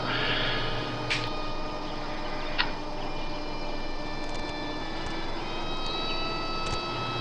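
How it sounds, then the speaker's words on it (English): A ZOHD Alpha Strike 6S RC plane cruises at about half throttle near 120 km/h, its electric motor giving a steady whine with faint ticks and clicks and no voices. "So this plane cruises along just over 120 kilometers an hour at about half throttle."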